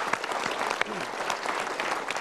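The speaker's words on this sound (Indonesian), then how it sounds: "Kita berikan tepuk tangan untuk teman-teman." A room full of people claps steadily for a friend at a motivational seminar, with sharp individual claps standing out in the dense wash.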